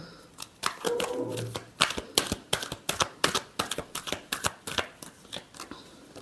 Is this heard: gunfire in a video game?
no